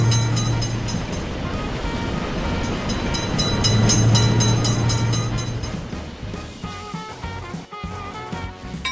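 A train rolls past a road level crossing, a loud, steady rumble and rattle of railcars filling the air, then thinning out and growing quieter over the last few seconds, with no talking.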